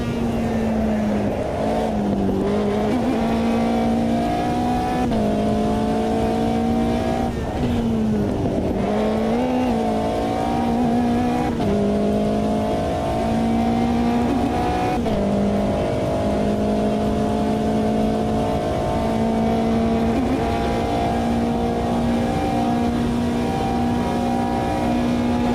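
A race car engine in a sim racing game drones loudly and continuously for the whole stretch, its pitch rising and dipping through gear changes and throttle lifts around a circuit.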